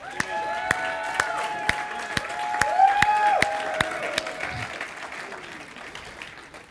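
A church congregation applauds at a Sunday service, with sustained clapping mixed with sharp individual claps and rising, wavering shouts and cries of praise from the crowd.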